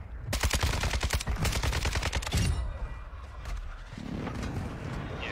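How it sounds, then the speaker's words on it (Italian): Rapid bursts of automatic gunfire and bombardment blasts in a military video game, a loud dense rattle for about two seconds, then distant rumbling explosions and softer shots. "Bombardamento."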